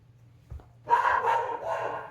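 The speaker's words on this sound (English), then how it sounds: "let me get my dog to stop" A pet dog barks indoors in a short burst of a few yaps starting about a second in, fairly close and moderately loud, with a low hum underneath.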